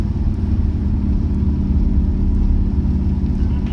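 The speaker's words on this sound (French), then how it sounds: "On dirait presque un V8 essence." An Audi SQ7 engine on a quattro driving experience gives off a deep, steady throaty rumble like a petrol V8, loud and close with no talk over it.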